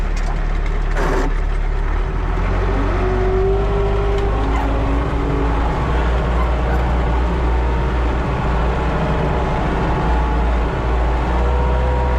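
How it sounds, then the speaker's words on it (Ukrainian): An MTZ-80 tractor strains under load while dragging a deep-set AGD 2.4 disc harrow through a field, its engine droning loudly and continuously with a shifting labored pitch. "Важко, все одно важко трактору."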